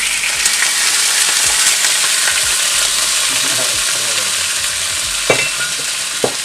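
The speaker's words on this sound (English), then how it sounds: "Some Shaolin cooking wine on this." Tofu noodles fry in a pan after a splash of Shaolin cooking wine, giving a steady, loud broadband sizzle with a couple of sharp utensil clinks near the end.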